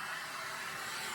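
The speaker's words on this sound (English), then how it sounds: "I prefer to dry it with a hairdryer and one of those round brush thingies" A handheld hair dryer blows a steady, loud whooshing roar while drying freshly dyed hair, a constant even noise with no talk.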